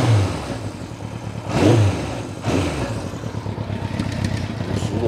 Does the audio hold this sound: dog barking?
no